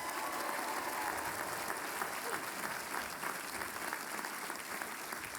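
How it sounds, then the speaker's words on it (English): A large commencement crowd at Washington University applauds the graduates' parents and families, a dense, steady roar of clapping that holds evenly throughout without pause. "What about a nice round of applause for them?"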